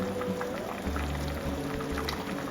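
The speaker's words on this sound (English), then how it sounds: "I'm gonna add some pasta water" Pasta water pours into a butternut squash sauce simmering with garlic and sage stem, a bubbling, splashing stream over a low background hum.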